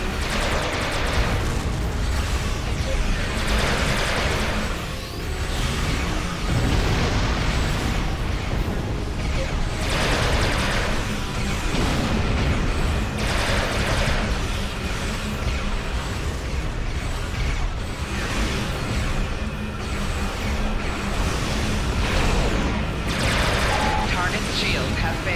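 Starship weapons and explosions from the space game Star Trek Online, a Xindi-Reptilian escort fighting in an Undine battlezone: dense, continuous booming and crackling bursts fill the whole stretch, with computer voice prompts over the din.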